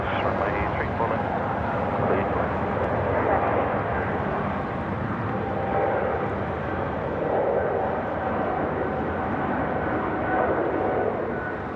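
Airliner at Sydney Airport, with a China Southern jet among the traffic, a broad steady engine roar at a distance that swells gently, with voices talking and radio chatter over it.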